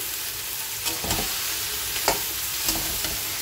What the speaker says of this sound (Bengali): আর এদিকে ভাজা হচ্ছে, ব্রোকলিটা সুন্দর করে কষানো হয়ে গেছে